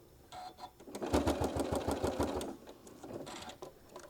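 A sewing machine stitching a small fabric travel case runs in short bursts, its rapid needle clatter beating in an even rhythm close by, the longest run in the middle with quieter spurts around it.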